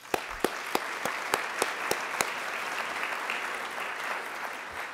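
A lecture hall audience gives a sustained round of applause, a soft, even wash of clapping with a few sharper, nearer claps standing out early on.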